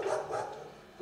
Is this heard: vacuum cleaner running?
no